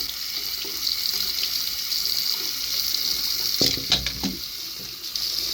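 Tap water running from a faucet over a hot plastic trim piece to cool it, a steady close splashing rush that thickens with brief gushes near the end.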